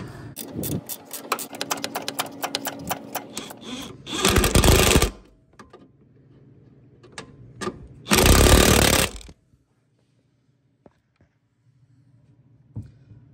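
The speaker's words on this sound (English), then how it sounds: "I'm going to work on tightening up the 13 mils." A power tool, likely a ratchet or impact wrench, tightens 13 mm bolts on a 3.0L Ford Escape motor mount: rapid clicking bursts, then two loud sustained whirring runs of about a second each, followed by near silence with faint clicks.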